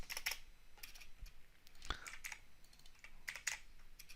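Quiet, steady keystrokes tapped on a computer keyboard in irregular bursts, faint and close, with no voice over them.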